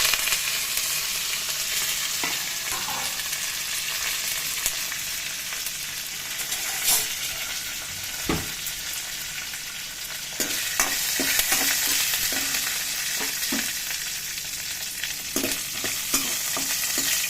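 Curry leaves, dried red chillies, cumin and fennel seeds fry in hot oil for a chicken curry, a continuous bright sizzle with occasional sharp pops and stirring scrapes, close and steady with no talk.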